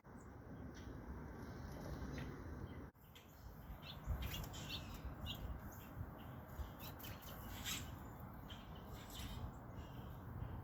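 Small backyard birds near a porch with bird feeders chirp in faint, scattered tweets over a steady outdoor hiss, with a brief break partway through.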